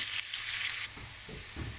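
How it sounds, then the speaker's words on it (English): Onions sautéing in a pan for Filipino pancit bihon, a loud bright sizzle that drops suddenly to a softer crackle, with low stirring thuds following. "And now we put our onion. We have to saute this until it gets translucent or golden brown."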